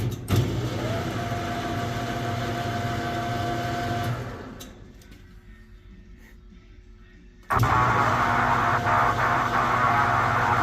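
A Subaru BRZ engine idling steadily at low revs after a transmission swap, a continuous close drone that drops away briefly in the middle before returning strong.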